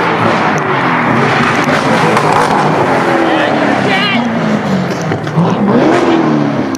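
Chevrolet Corvette engine running loud through open exhaust, a steady heavy rumble with rising and falling revs, recorded close and continuous.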